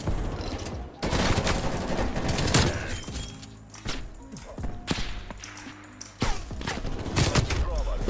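Heavy, chaotic gunfire in Call of Duty Cold War, with repeated bursts and sharp impacts from several directions, loud and close, broken by a few brief lulls before the shooting resumes.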